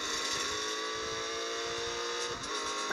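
A BMW M2 Competition engine in the racing game Real Racing 3 roars continuously at high revs, a bright sustained whine that holds steady for a few seconds with a slight dip near the end, and no talk.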